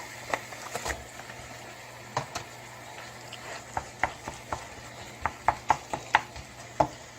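Scattered light clinks and scrapes of a utensil against a cooking pot as meat is added to white chili with diced green chilies, irregular taps spread over several seconds at moderate volume.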